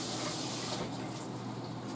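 Water runs steadily from a tap, a soft continuous hiss and splash up close with no talking.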